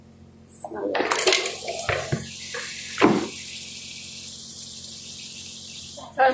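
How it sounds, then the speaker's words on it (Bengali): Water pours into a pot of chicken curry in a short splashing rush, followed by a clank of cookware and quieter trickles, with a voice speaking nearby. "বেশি করে পানি দিয়েছি"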